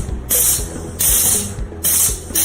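An Electroweld 100 KVA press-type spot welder joins 2 mm sheets, giving three loud repeated hissing bursts of air at regular intervals with mechanical clunks between them, up close.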